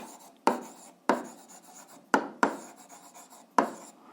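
Pen strokes on paper while an algebra solution is written down, five or six short scratchy marks at irregular intervals, close and fairly quiet, with no talking.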